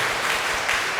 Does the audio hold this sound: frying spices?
no